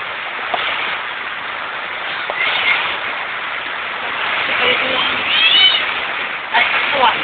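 Cat meowing in a few drawn-out cries over steady rain-like background noise, with people talking nearby.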